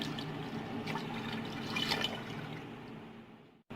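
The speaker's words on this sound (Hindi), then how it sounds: "पानी डाल दिया है।" Water poured into a pressure cooker pot holding 2 kg of meat and 1.25 kg of rice, a steady soft splashing stream that continues for a few seconds and then stops abruptly.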